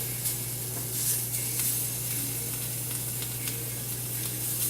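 An omelet sizzles steadily in a hot pan, a continuous crackling frying hiss at close range with no voices over it.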